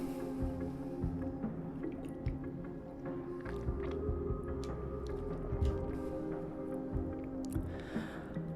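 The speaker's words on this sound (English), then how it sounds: "I'll drink some water." Someone drinks water: faint, quiet sips and small liquid clicks and swallows over a low room hush.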